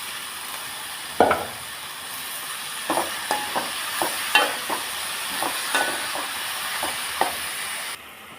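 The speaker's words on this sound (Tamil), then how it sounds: "கீரையை நல்லா வதக்கி விட்டுட்டு ஒரு அஞ்சு நிமிஷம் மூடி வச்சுட்டு" Moringa leaves stirred and sautéed with small shallots in a pan, giving a steady soft sizzle broken by a dozen or so sharp scraping stirs at irregular intervals, close by with no talking.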